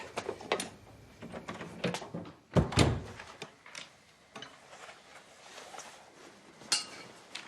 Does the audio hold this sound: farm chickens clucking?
no